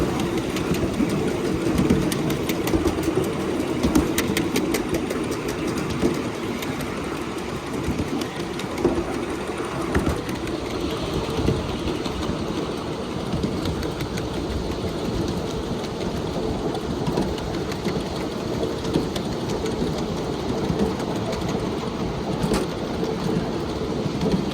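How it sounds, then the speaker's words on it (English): A small model train of six wagons trundles along its track, a continuous low rumble with faint rhythmic clicks and rattles, steady and fairly close, with no voices. "It's quite a nice little train to trundle around with, to shunt with."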